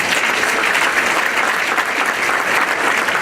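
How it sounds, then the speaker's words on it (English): Audience applause at an awards event for Black men in Rochester, a loud, dense and steady clapping from a full crowd throughout, with no voices standing out. "So give yourselves a round of applause."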